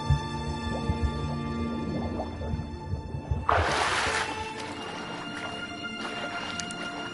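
Kelpie, a horse in The Witcher 3, whinnies in a brief burst midway, set against the game's music and ambient hoof sounds.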